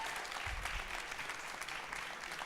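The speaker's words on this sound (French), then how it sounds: "on fait un grand tonnerre d'applaudissements à Christian encore." Audience applause at a cabaret evening, a faint, fairly distant wash of clapping that holds steady throughout with no one speaking over it.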